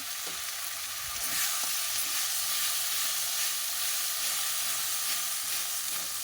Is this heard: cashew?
yes